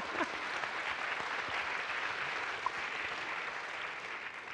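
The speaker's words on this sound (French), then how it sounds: "on applaudit" A seated audience at a women's forum event applauds in a steady, even wash of clapping, moderately loud and sustained throughout with no pauses.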